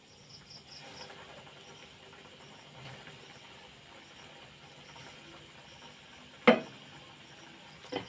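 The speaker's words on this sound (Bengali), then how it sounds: "একইভাবে উল্টিয়ে পাল্টিয়ে সব ভেজে নেব" Chicken popcorn frying in hot oil gives off a steady, faint crackling sizzle throughout, with a sharp clatter near the end.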